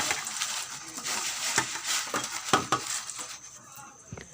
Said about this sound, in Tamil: நாங்கள் ஃப்ரை பண்ணி வச்ச வெங்காயம் இதையுமே இதில் சேர்த்துட்டு நல்ல ஒரு மிக்ஸ் கொடுங்க